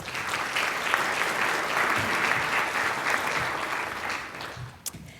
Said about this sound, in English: please let's give all of them a round of applause